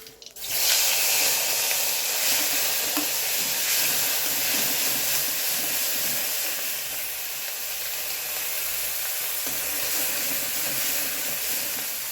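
Nigella seeds and onion hit hot oil, a loud, dense hissing sizzle that starts abruptly and holds steady, easing slightly partway through.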